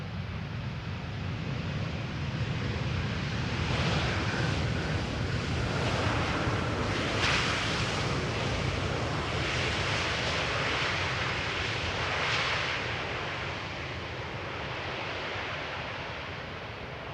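An Airbus A320neo airliner, three years old, passes at Amsterdam Schiphol Airport on a misty day as a broad, steady jet roar that swells and holds, distant to mid-range, with no voices.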